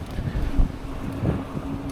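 A strong headwind buffets a cyclist riding toward Kulautuva along the Nemunas, producing low, gusty rumbling microphone noise that swells and dips without speech.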